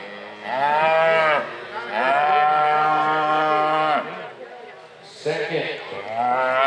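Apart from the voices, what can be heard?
heifers mooing at livestock show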